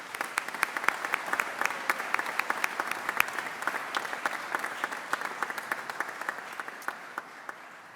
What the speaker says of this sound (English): So a round of applause for the family and friends.